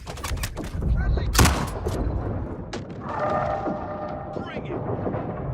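An enemy shooting in a video game, with sharp shots crackling in quick, uneven bursts and one louder blast, mixed with game noise and a voice talking over it.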